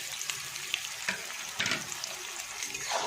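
Pre-fried double-yolk eggs being stirred into a reddish fried masala in a pan, with a steady sizzle under scraping stirs and clinks of a utensil, fairly close and moderate in volume, with no talking.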